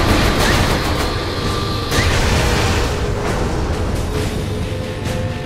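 An explosion in the video game Saints Row IV booms loudly and fills the mix with dense rumbling debris and scattered pops, fading into sustained crackling noise without talking.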